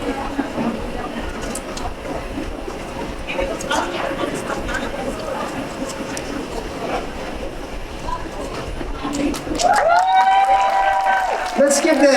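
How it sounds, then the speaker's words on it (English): An audience at a democracy summit claps in a sustained, crowd-wide wash of applause with a steady rumble beneath. Near the end a tonal, whistle-like sound rises over it. "Let's give them a warm round of applause"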